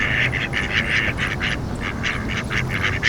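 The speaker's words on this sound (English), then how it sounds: "These ducks were passing through the lake" A flock of ducks on a frozen lake quacking continuously, a busy chorus of repeated nasal calls close by, steady and overlapping throughout with no talking.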